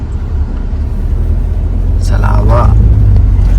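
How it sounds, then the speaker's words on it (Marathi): A car drives along a road in the Konkan countryside, its engine giving a steady low rumble that swells slightly toward the end, with people talking over it. "गाडी चालली आहे"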